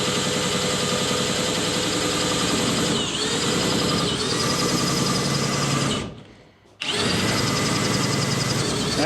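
A power drill runs for installation of a Neo-Dyne motorcycle loader, a loud continuous whine close up with slight speed dips, cutting out briefly for about half a second before spinning back up to full speed.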